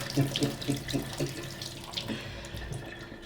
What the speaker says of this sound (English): So wash your cucumber